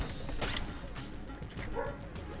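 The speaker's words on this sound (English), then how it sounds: "Oh wait, no, she's barking again." A pet dog barks a few times in the distance inside a home, short muffled yips scattered over a steady background of game sound.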